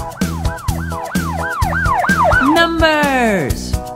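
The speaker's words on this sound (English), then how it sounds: "Police car." A police car siren wails in a repeated rising-and-falling pattern, then slides into a sweeping, descending tone, loud and close, set over a steady rhythmic backing beat.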